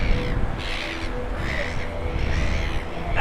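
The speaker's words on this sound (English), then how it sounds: "The seagulls are all in" Seagulls call in raspy, repeated squawks near a beach at sunrise at Narrabeen, several birds sounding at once over steady wind and surf noise.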